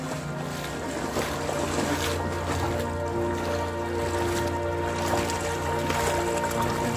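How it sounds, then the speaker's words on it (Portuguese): Strong floodwater current rushes through a flooded house during heavy rains in Paragominas, Brazil, a continuous loud roar and churn of moving water with wind-like noise. "Olha a correnteza, ó. Forte pra caramba."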